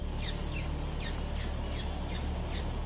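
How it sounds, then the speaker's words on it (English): A hungry baby bird squawks for food in a run of about seven sharp, rising-and-falling calls spaced roughly half a second apart, loud and close over a steady low background hum. "The little one threw a tantrum, squawking for more food."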